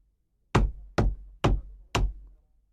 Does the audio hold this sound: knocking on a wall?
yes